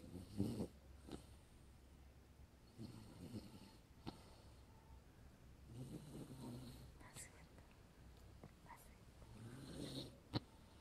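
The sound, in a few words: pet snoring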